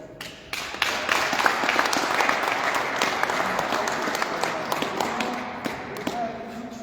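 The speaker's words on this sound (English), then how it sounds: "Claps for your country." A crowd at a welding simulator event in Peru breaks into applause, starting abruptly and continuing as a loud, dense clapping with distinct sharp hand claps, fairly close and lively throughout.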